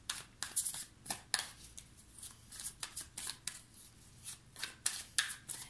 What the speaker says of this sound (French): Je vais recouvrir les cartes pour avoir plus d'informations.